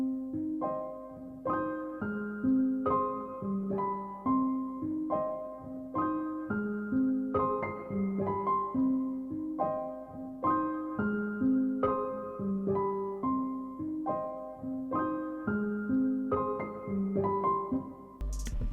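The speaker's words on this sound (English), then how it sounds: "I then added this piano from the All for Arnold's Composer Toolkit. I used the Falcon piano mixed." A sampled Falcon piano from a composer toolkit plays a simple, repetitive melody following a guitar's bass line, soft and even chords pulsing steadily at moderate volume with no voices.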